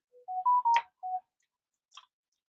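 A telephone rings close by in a quiet room, sounding a short series of electronic tones followed by a faint click.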